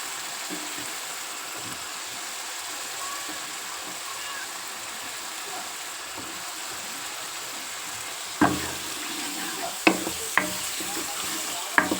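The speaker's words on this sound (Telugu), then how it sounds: "రొయ్యలు ముందు ఉడకబెట్టుకుంటే ఇలా ఉడుకుతాయి" Raw prawns simmer and sizzle in a chana dal curry with onion paste, a steady soft bubbling hiss with a few sharp clinks and stirring knocks near the end.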